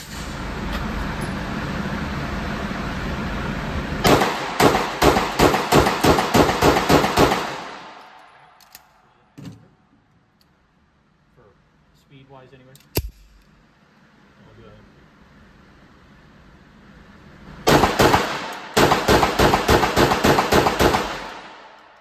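Rapid strings of Sig AXG Legion pistol shots fire in two bursts, loud and close with sharp cracks, separated by a quieter stretch with faint handling noises and a single isolated bang.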